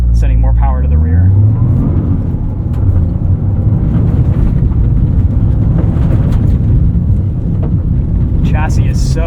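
A 2023 Toyota GR Corolla driving on a circuit, loud engine drone and heavy wind rush from inside the car, with a driver talking over it at the start and end.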